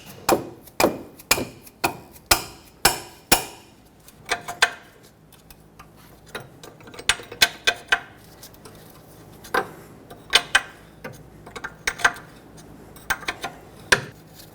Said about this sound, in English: use a hammer, tap on the knuckle right here